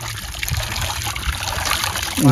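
A village hand pump in the Cholistan desert gives a steady, close stream of water that splashes and trickles without a break, and a voice comes in briefly at the end.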